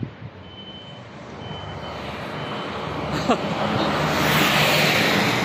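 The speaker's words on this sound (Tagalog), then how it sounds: "Oy, may sasakyan." A vehicle passing on a cold street, its engine rumble swelling steadily louder as it nears, with a brief beeping tone partway through.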